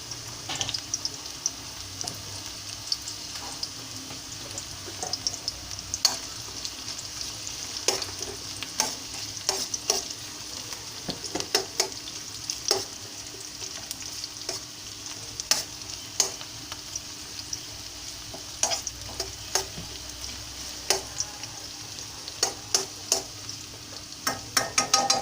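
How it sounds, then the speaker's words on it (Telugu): Onions frying in a pot for mutton haleem, a soft steady sizzle broken by frequent scraping clicks of a spoon stirring, fairly quiet with no voices. "ఆనియన్స్ వేగుతూ ఉన్నాయి కదా"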